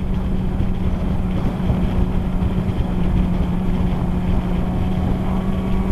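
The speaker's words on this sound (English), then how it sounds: "This bike is pretty goddamn fast." A Yamaha R6 sport motorcycle engine drones steadily and loudly throughout a ride, with a strong low hum and heavy wind rush over the microphone.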